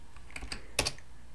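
Fast keystrokes on a computer keyboard while entering code, a short burst of close clicks with one sharper tap, no speech.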